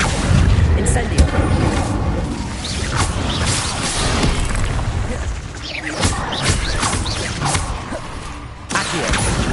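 A fire spell bursts out in the video game Hogwarts Legacy, a dense roaring whoosh and booming blast layered with game effects and music, loud and continuous through the moment.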